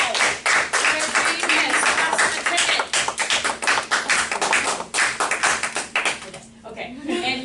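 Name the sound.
classroom applause for a student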